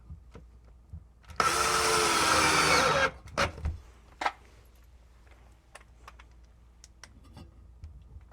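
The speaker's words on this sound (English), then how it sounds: "so I'm going to put the rest of the wood screws in." Power drill drives a wood screw into wood during a clothes dryer installation, a single loud whirring burst of under two seconds, followed by scattered clicks and handling knocks.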